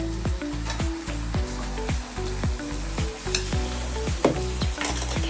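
Onions and chicken frying together in a pan, a constant close sizzle broken by a regular run of scraping stirring strokes about twice a second.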